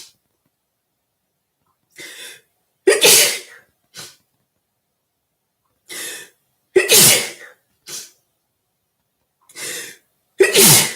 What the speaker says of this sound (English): oh, I could have sneezed.